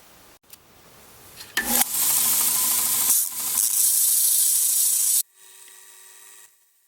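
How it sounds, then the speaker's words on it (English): A belt sander grinds a silver spoon slug for a ring, a harsh, hissing abrasion that starts after a few knocks, runs loudly for several seconds with a brief dip, then stops sharply to a quieter motor hum. "So I'm going to put it back on the belt sander."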